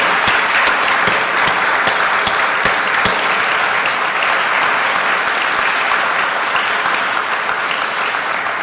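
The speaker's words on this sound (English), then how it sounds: "Let's give them a hand as well." A crowd of attendees at a state address in Iowa gives the legislators a long round of applause, a dense, loud, sustained wall of clapping with a few sharper individual claps standing out.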